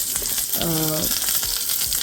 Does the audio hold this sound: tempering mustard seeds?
yes